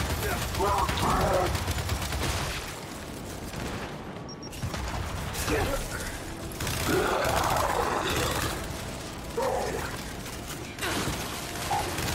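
Sustained turret gunfire from the video game Gears of War 5 rattles in dense, loud bursts with brief pauses, while a person talks over the shooting.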